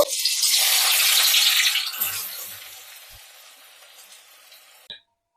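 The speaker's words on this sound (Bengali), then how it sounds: "এবার এই কেটে রাখা পেঁয়াজগুলো দিয়ে দেব।" Sliced onions hit very hot oil for fried onions in a Bengali hilsa and rice dish, a loud burst of sizzling at first that gradually fades to a softer crackle, ending with a brief clink.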